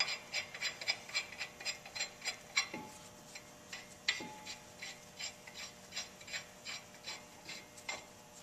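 Steady ratcheting clicks from a tool working a lug nut onto a 2005 Chevy Avalanche wheel hub to hold the brake rotor, rapid even ticks close up with a couple of brief metallic rings, no talking.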